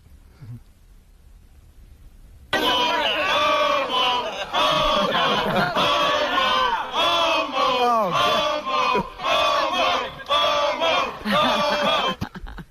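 A crowd heckles and jeers a man. After a couple of quiet seconds, a loud, sustained roar of shouting voices bursts in and keeps swelling and dipping in chant-like waves until the end.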